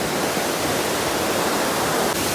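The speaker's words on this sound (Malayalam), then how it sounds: "നല്ല രീതിയിലാണ് വെള്ളം കുത്തി ഒലിച്ചിട്ട് പോണേട്ടാ" A fast-flowing river rushes by, a dense, steady roar of water that continues without a break and without any voices over it.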